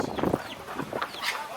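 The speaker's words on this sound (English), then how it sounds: "Oh, they got chickens." Chickens cluck close by in a short series of quick, irregular calls with no voices over them.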